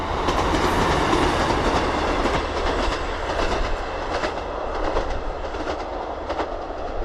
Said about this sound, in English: We've got a train.